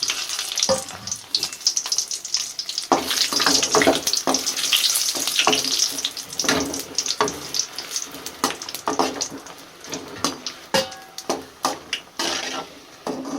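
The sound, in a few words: dry red chillies frying in hot oil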